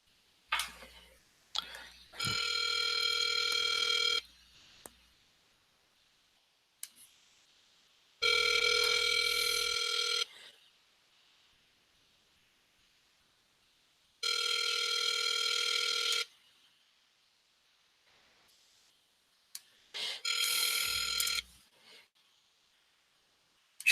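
An outgoing call to a landline rings back four times through a telephone earpiece, each burst about two seconds long with quiet gaps between, along with a few faint clicks.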